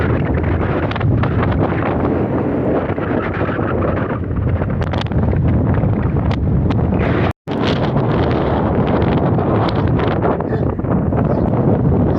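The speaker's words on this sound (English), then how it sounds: "And the wind's stopping me." Steady, heavy wind roars across the microphone of a rollerblader pushing against it on a Utah road, loud and unbroken apart from one brief cut.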